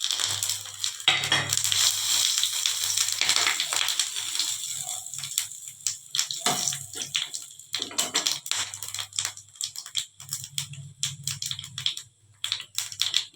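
Boiled potato frying in hot oil with whole cumin, whole garam masala and bay leaf, a dense crackling sizzle that runs steadily and close with irregular sharp pops.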